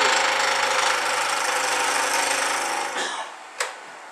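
A wood lathe spins with a loud steady whir as the tool cuts, then the noise drops away, followed by a sharp tap near the end.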